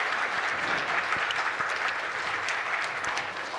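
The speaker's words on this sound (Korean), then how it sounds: "박수로 함께 여러분들이 격려해 주시면 좋겠습니다" A church congregation applauds continuously during a Sunday service, a dense, even wash of many hands clapping together that holds at the same level throughout.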